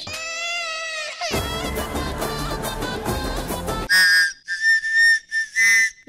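During a comedy stage game, a contestant blows a whistle, a long steady tone first, then after a burst of noisy commotion several loud, piercing short blasts in quick succession.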